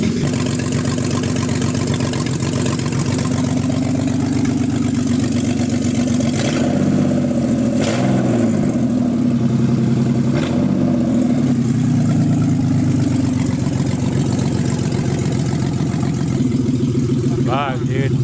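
A rebuilt forged S52 engine in a car runs steadily at idle, giving a loud, constant rumble with brief surges, and people talk over it throughout.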